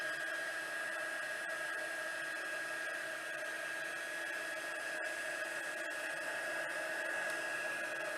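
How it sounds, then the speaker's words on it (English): Heat tool blowing hot air to melt embossing powder; a steady close whirring blast with a constant whine that runs unbroken throughout, no talk. "It has to get hot to melt that embossing powder."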